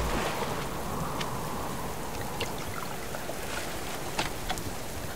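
Steady rain falls outdoors on a homestead, a dense, even hiss of drops with a few sharper patters on nearby surfaces, no voices over it.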